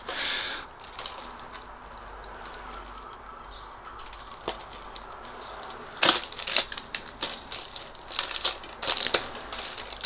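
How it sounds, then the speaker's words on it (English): Cellophane wrap is peeled from a PS4 game case (Bound by Flame) at close range. A quiet stretch gives way to a series of sharp crinkling and crushing bursts in the second half. "Oh, you've got to love that cellophane that never comes off."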